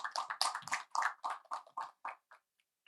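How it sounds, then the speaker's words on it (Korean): A few people in the audience at an academic conference clap close by, about a dozen distinct claps slowing and thinning out over three seconds before stopping. "한번 박수 한번 쳐드려야 되겠죠"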